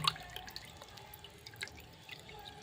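Corn slurry strains through a cotton cloth, giving a steady patter of soft drips and trickles of liquid with no talking, continuous across the short stretch.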